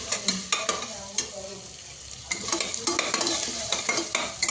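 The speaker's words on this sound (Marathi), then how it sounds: "कांदा हा मंद आचेवर बदामी रंग येईपर्यंत चांगला परतवायचा आहे।" Onions frying in a pan for veg biryani, with steady sizzling and repeated spoon scrapes and stirring clatters throughout, close and fairly loud, no talking.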